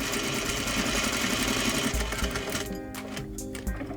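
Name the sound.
sewing machine edge stitching trousers front edge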